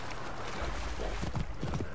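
Horse hooves clip-clopping in Assassin's Creed Origins, irregular thuds that grow more prominent in the second half, heard over a dense background ambience without speech.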